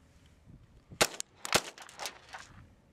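A pistol fires Peters ammunition: two sharp, loud reports about half a second apart, followed by fainter metallic clatter and rustle.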